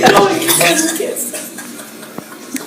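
A spoon stirring chocolate milk in a glass, with clinking and scraping strongest at the start, then easing off, while voices talk over it.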